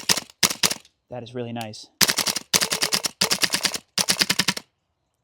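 Double Eagle Noveske N4 gas blowback airsoft rifle fired on semi-auto: several sharp, evenly spaced reports in quick bursts, loud and close, with a brief stretch of someone speaking between them.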